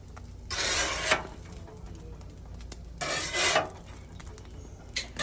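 Metal spatula scraping cooked ground meat off a hot cooking surface during an outdoor cowboy-beans and steak cook, two strong rasping bursts separated by quieter gaps and a few light clinks, close and with no talking.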